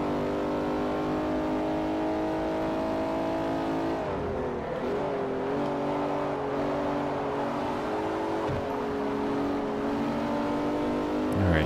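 A Ferrari engine in Forza Motorsport 4 roars at full throttle, loud and sustained, dipping briefly in pitch mid-run before climbing again, with a faint tire squeal.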